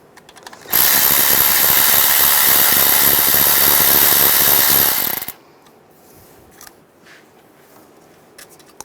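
An 8mm socket spinning a nut off a 1998-2010 Volkswagen Beetle alternator: a loud, dense ratcheting clatter running nonstop for about four and a half seconds, then cutting off to quiet workshop rustle.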